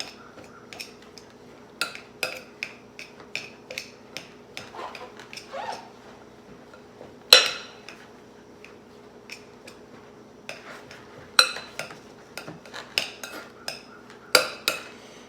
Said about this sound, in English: Guess I could use a masher too, but I'm just mashing them up.